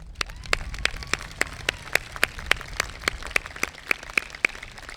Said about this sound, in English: join me in recognizing your parents and all the others who have supported you with a round of applause